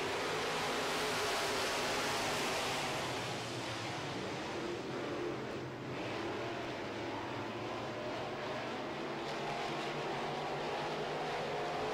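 A field of modified race cars at Red River Co-op Speedway rolls off to start a heat, a loud, continuous roar of many engines filling the air steadily throughout.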